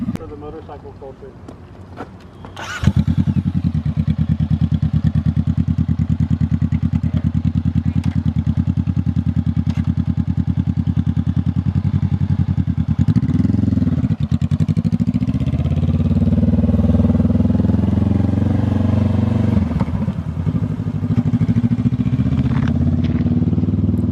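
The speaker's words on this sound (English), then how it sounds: "my bike sounds a lot better. It's more wet with that big ugly exhaust thing taken off, the muffler." A 2020 Honda CBR500R motorcycle with its muffler removed starts up and settles into a loud, close, steady idle with a deep throaty rumble, then blips its throttle in a couple of short revs.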